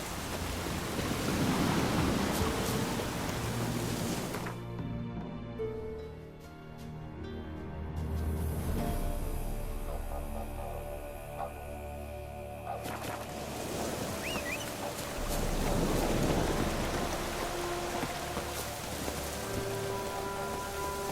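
Heavy downpour in the video game The Witcher 3: a dense, steady hiss of rain beating on surfaces, swelling and easing at times, with a low rumbling bed and no talk.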